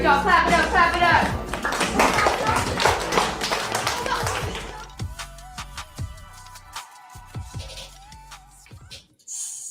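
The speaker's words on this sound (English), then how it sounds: "clap it up, clap it up." A group of fifth graders at an elementary school clapping in scattered, uneven bursts amid loud, lively children's voices and chatter, the applause thinning into sporadic claps.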